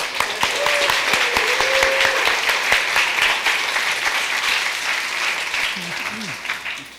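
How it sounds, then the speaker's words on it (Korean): An audience at a church youth outreach event breaks into sustained, loud applause, many hands clapping steadily for several seconds before it thins, with a voice briefly heard near the end. "박수 한번 합시다."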